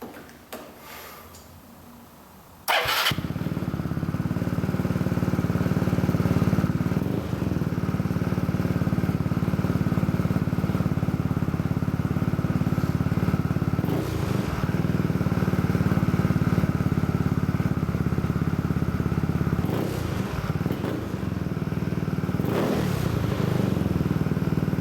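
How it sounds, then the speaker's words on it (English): Yamaha Zuma 125 scooter fitted with a Force Works ECU starts after a brief quiet moment, then idles loudly and steadily up close with occasional light blips of revving throughout. "I'm gonna go ahead and fire it up"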